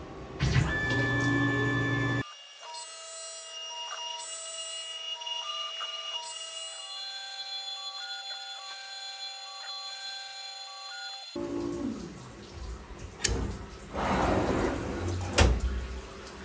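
Tormach CNC mill cutting 130 teeth on a clock wheel with a 0.8 module cutter, a steady whirring drone with pitched tonal whines from the machine, then rougher broadband cutting noise toward the end, heard alone and fairly close.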